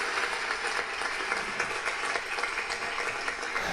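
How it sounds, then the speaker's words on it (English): Steady applause from a live audience at a football podcast recording, dense and continuous clapping throughout with no voices on top. "Keep going, keep bringing the applause."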